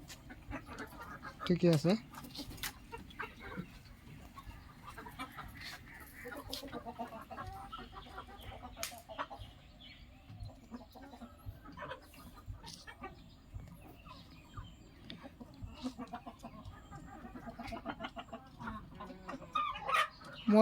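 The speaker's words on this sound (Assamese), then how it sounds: "সেইটো চাওক, মোৰ মুৰ্গীবিলাক" Domestic chickens cluck in a poultry shed, with scattered short calls and a brief louder burst near the start, while a person speaks intermittently over the flock.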